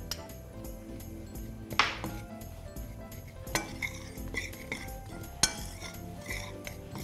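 A batter of flour and baking powder being stirred in a bowl for an apple roll: a utensil scraping and clinking against the bowl in a repeating rhythm, with a few sharper knocks, close and fairly quiet.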